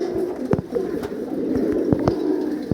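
Breeding pigeons, including a pair of white birds, keep up a steady low cooing throughout, broken by several sharp clicks and taps, with no voices.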